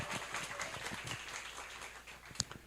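Crowd applause fills a hall at a Korean political party youth committee launch event, a dense sustained patter of many hands at moderate distance, fading slightly toward the end.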